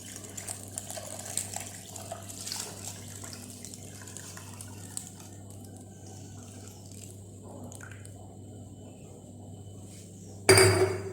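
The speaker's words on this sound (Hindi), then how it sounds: "अभी हम इसमें ऐड करेंगे पानी" Water, about 1 litre, runs steadily into a metal cooking pot for mutton handi under a low hum, a continuous splashing pour that ends with a sharp clatter.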